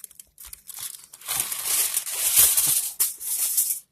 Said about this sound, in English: grab a sheet of foil